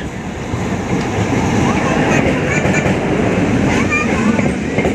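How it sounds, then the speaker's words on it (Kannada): A DEMU passenger train with ICF coaches rumbles steadily and loudly into a station from start to finish, a dense, continuous roar of wheels and carriages. "ಎರಡು 5ಕ್ಕೆ ಬರಬೇಕಾಗಿರೋ ಟ್ರೈನು ಫೈನಲಿ 2:35ಕ್ಕೆ ಬರ್ತಾ ಇದೆ."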